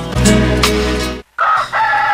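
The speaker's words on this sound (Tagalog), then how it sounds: "Mitugtugaok ng mga manok pero si Mika wa pa mauli." A rooster crows loudly nearby in one long, strained call, then after a brief pause a second, fainter crow answers from farther off.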